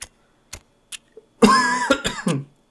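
A person with a cold coughs. A few faint clicks come first, then a harsh, raspy burst of coughing and throat clearing close to the microphone, ending in silence.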